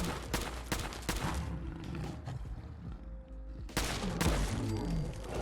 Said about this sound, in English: Taking down the Deathclaw in only 8 shots